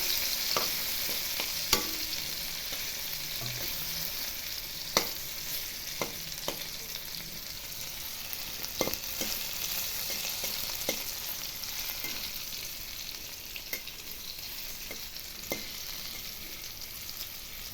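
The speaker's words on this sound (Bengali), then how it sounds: "এখানে ছোটো ছোটো করে আলু ভাজা হচ্ছে।" Small pieces of potato fry in hot oil in a pan with a steady, even sizzle, while a spatula stirs them in frequent sharp scrapes and clicks.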